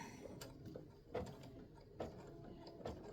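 An embroidery machine sewing a satin stitch, faint mechanical whirring with regular clacking needle strokes about once a second, close and steady, no voices.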